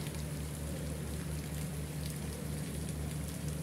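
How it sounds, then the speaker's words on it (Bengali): Moderate rain falls steadily outdoors in Bangladesh, a continuous even patter and wash with a faint low hum running underneath, and no voices. "তো বৃষ্টি মোটামুটি একেবারে কমও না, মোটামুটি বৃষ্টি হইতেছে দেখেন।"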